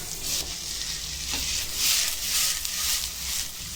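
Sliced okra and onion frying together in hot oil in a pan. A steady, close hiss of sizzling swells and eases in soft waves, with a faint low rumble underneath and no voices.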